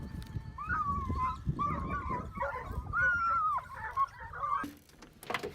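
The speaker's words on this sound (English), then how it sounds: "three hounds suddenly tensed up, their noses touching the ground, and let out a loud bark, tearing apart the still morning air" Three hounds in an open field on a still morning, hunting invasive wild pigs, giving repeated close, loud yelping barks and whimpering bays in quick bursts that overlap and trail off near the end.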